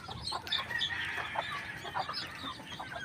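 A hen named Odette and her small chicks cluck and peep on a hot day at a rural farmyard in Bohol, with soft, steady, close clucking and high chirps throughout.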